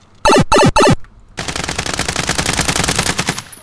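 Gunfire in the Warzone video game on Rebirth Island: three loud, sharp shots in quick succession, then a sustained, dense burst of rapid automatic fire that rattles on for over two seconds.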